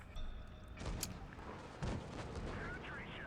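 A tank cannon fires in World of Tanks Blitz, a sharp booming shot followed by a second blast, set against a continuous game-noise bed with faint chirping effects toward the end.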